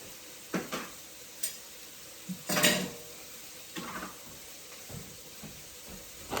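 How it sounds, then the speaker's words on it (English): Beef browns in a pan for a crunchwrap taco casserole, with a soft sizzle underneath and a few sharp utensil scrapes and clatters against the pan. "Oh, beef is cooking."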